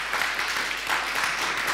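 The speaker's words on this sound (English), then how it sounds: "Applause again." Audience applause at a translation and performance event in Berlin, a steady wash of clapping held for a short stretch with no voices over it.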